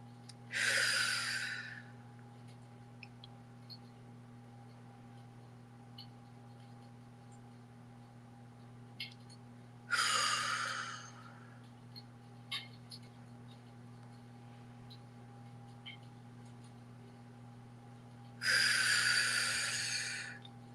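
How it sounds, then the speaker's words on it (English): Three deep breaths let out through parted lips, spaced about nine seconds apart, each a soft, airy whoosh over a quiet, steady background hum. "let's close as we begin with 3 deep breaths. Hold at the top and exhale with parted lips."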